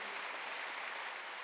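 A church congregation at a Wednesday worship service claps together in a dense, even wash of applause that stays steady from start to finish, quiet and heard from a distance, with no talking over it.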